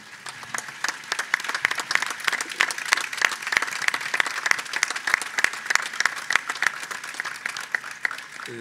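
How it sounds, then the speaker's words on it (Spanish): Applause from a festival audience at a folk music night in Telde, Gran Canaria, a dense, even patter of many clapping hands heard at moderate distance, continuing without talk. "este aplauso es para ti"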